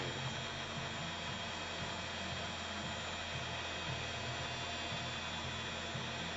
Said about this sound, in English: Takes a little bit of time with the heat gun.